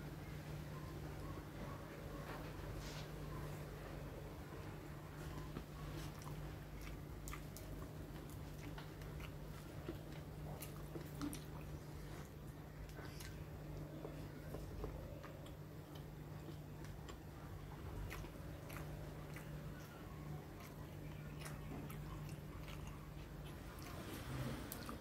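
Faint, close chewing and soft ticking bites while eating stir-fried water spinach with sea fish, a quiet irregular mouth sound repeating steadily over a low background hum.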